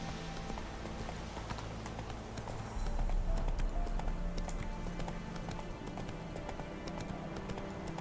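A horse gallops in The Witcher 3 with a continuous rapid clip-clop of hooves under game ambience, growing slightly louder partway through.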